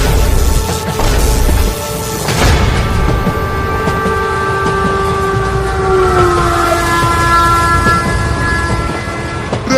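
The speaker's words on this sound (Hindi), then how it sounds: "ट्रेन तो चली गई मालिक।" A cartoon train rushes past with loud, steady rumbling and clatter. Sustained horn tones rise and slide in pitch across most of the pass, and nobody speaks.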